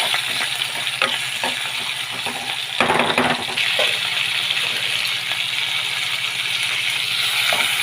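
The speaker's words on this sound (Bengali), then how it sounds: "জল ফুটে যাচ্ছে ওতে" Water comes to a boil in a pot for Maggi noodles, giving a steady close bubbling hiss with a short clattering burst partway through and no speech.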